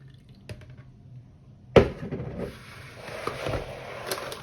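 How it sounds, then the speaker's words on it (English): Milk poured back into a blender jar while making homemade ice cream: a sudden clunk, then a steady splashy, hissing stream that runs for a few seconds, fairly close and without talk. "let's pour the milk back in the blender."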